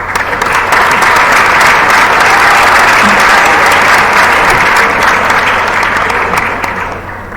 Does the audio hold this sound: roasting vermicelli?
no